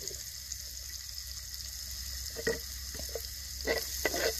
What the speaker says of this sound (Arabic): هذا غادي نشحر هاد البصيله هكا مزيان